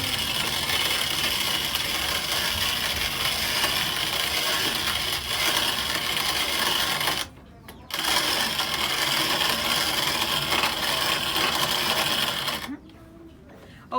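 A grinder mills freshly roasted coffee beans in Cuba, a steady loud whirring buzz that cuts out briefly twice, with voices talking nearby.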